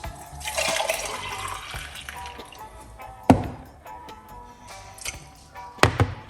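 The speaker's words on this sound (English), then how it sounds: "let's pour out this juice." Cucumber ginger lime juice pours in a steady liquid stream for a few seconds, followed by a couple of sharp clinks and taps of the container, heard close up.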